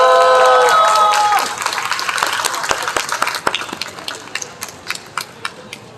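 Applause and cheering from a street rally crowd in Cheongju welcome a pastor to the stage, loud and dense at first, then thinning into scattered claps over a steady crowd murmur.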